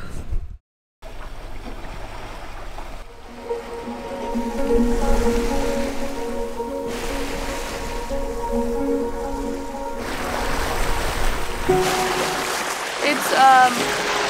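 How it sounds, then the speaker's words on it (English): Steady rushing ocean waves and water wash around a boat at sea in a storm, with a low engine-like hum underneath and occasional clunks. "So this beautiful sound of the ocean"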